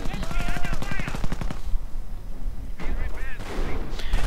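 MG42 machine gun fire in a World War II strategy video game, a rapid close burst of rattling shots that stops, then resumes with another short burst amid battle noise.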